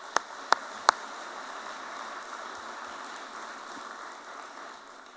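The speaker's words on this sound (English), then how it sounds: "So a round of applause for our staff and coaches" An audience at a university athletics Hall of Fame induction ceremony applauds staff and coaches in a steady, broad patter of clapping after three sharp, loud claps near the start, slowly easing off with no speech.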